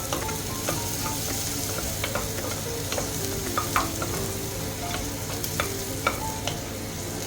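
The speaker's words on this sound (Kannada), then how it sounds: "ಈರುಳ್ಳಿ ಸ್ವಲ್ಪ ಚೆನ್ನಾಗಿ ಫ್ರೈ ಆಗಲಿ." Onions frying in a pan for palak pulao, a constant close sizzle broken by scattered spatula scrapes and stirring clicks, with no voices.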